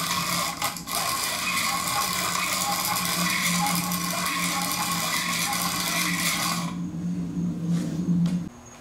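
An electric grinder steadily files a piston ring end gap for a BMW M52 stroker engine build, a loud continuous whir that cuts off near the end, leaving a quieter mechanical hum.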